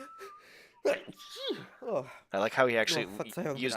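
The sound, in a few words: character Garrett sneezing in video game Thief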